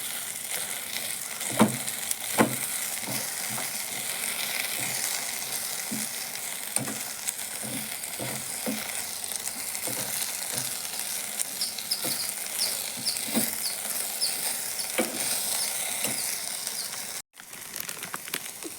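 Vegetables seasoned with rock salt and turmeric sizzle steadily in a frying pan, with a spoon scraping and stirring in irregular clinks and scrapes throughout; no one talks.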